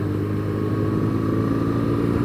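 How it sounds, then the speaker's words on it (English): Motorbikes follow close behind during a Wales road rally, their steady engine drone blending with the vehicle's own loud, unbroken rumble and road noise. "Bikes behind us."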